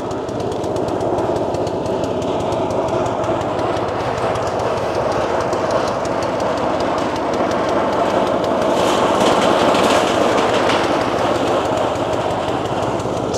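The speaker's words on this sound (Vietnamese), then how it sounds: "Máy sắp tắt rồi." Engine running during a rice harvest, a steady, loud mechanical drone with rhythmic clatter that continues unbroken throughout.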